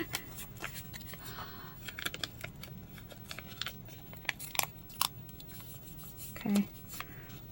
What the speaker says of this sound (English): So let's cut the labels.